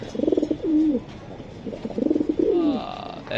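Pigeons at a pigeon market selling silver, racer, Giribaz and Budapest breeds coo in two clear, rolling phrases close by, with faint market noise behind and no talk.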